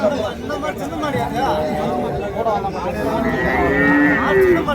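Cattle, including bullocks, moo loudly and repeatedly amid a busy crowd of chattering voices at a cattle market in Uthangarai, with people talking close by throughout.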